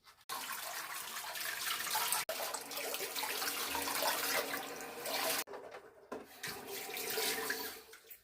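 Tap water runs steadily from a faucet into a sink as a 99-year-old man rinses his mouth with plain water after brushing his teeth, a continuous close splashing flow with two brief breaks and no talking.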